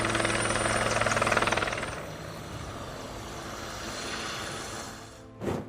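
An Apache military helicopter flies past, its rotor thudding loud and close before receding into a steadier, fainter drone, with a brief burst of noise near the end.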